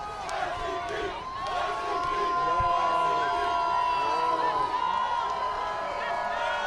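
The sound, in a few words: crowd of fans cheering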